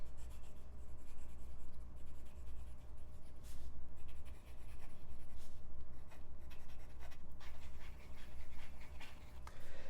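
A steel Kakimori pen nib set in a wooden holder scratches steadily across paper, writing yellow Colorverse String ink in continuous close strokes with short pauses between words, over a low steady room hum.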